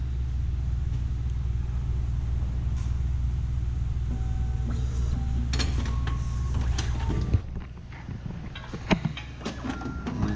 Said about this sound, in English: The machine does automatically begin binding.